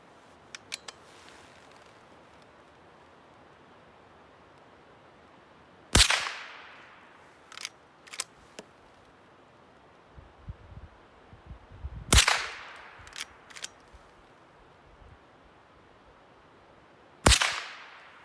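Marlin 39A .22 long rifle with a scope, shooting Remington ammunition outdoors: three sharp, loud cracks spaced several seconds apart, with smaller clicks of the lever action between shots.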